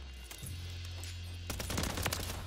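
Gunfire in a Call of Duty game, a rapid burst of automatic shots with a low steady hum underneath, close and loud, with no talk.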